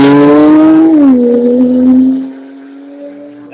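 A Porsche Turbo S race car launches hard from the start at a track day, its engine note climbing and shifting once before fading into the distance, loud and alone.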